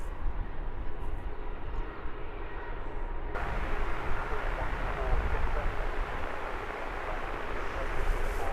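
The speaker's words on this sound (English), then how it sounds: "Horizontal windsock indicating the stiff wind that we're dealing with now." A stiff wind blows straight down the runway at London Luton Airport, a steady, loud broadband roar that buffets throughout with no pauses and grows slightly heavier after the first few seconds.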